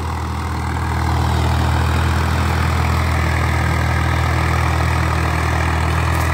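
A Swaraj 855 FE tractor pulling a harrow through hard, firm soil drones with a loud, constant low engine rumble that swells slightly after the first second and then holds steady.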